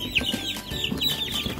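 Chickens housed in a chicken tractor out on pasture give a run of close, overlapping clucks and chirps, lively and moderately loud, with no talking.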